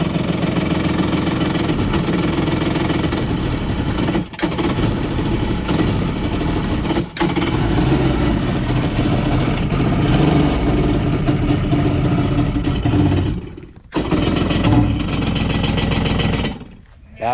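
A used jet ski engine, just bought, runs at a loud, rough, rattling idle up close for many seconds, with a few short dropouts and a stumble near the end, under occasional voices.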